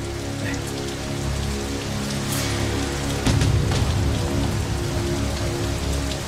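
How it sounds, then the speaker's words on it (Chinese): Rain falls steadily and heavily on the surroundings of a mountain village at night, a dense even hiss with a slight swell partway through. "下雨了"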